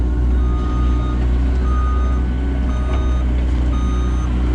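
Heavy equipment backfills a septic field, its reversing alarm beeping steadily and loudly over a continuous diesel engine rumble, no voices.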